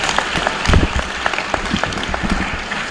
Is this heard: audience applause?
yes